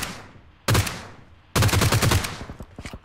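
Two loud bursts of automatic fire from a G36C assault rifle in PUBG Mobile, a short burst followed by a longer rapid string, then a few scattered single shots, with echoing tails between them and no talking.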